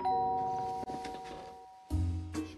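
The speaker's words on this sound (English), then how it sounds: "return when the doorbell rings" A doorbell on a game show set rings out with a clear ding-dong chime, a sustained tone followed by a second louder chime a moment later.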